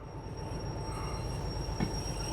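A train in the Derail Valley simulator rolls on its rails with a continuous low rumble and light wheel squeal, joined near the end by a couple of brief metallic knocks, and no one talks.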